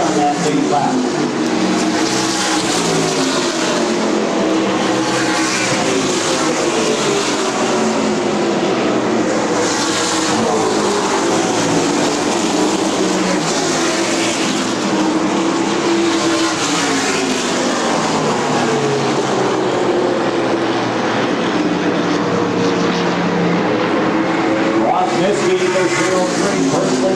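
NASCAR K&N Pro West Series race cars roaring around the track at the Evergreen 200, a continuous loud engine drone with shifting pitch heard under steady commentary.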